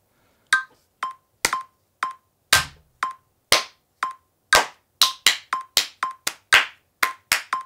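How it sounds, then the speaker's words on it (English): About twenty sharp, separate hand claps recorded close to an Audigo microphone, loud and dry with silence between them, spaced unevenly and coming quicker toward the end. "Let's start with the claps."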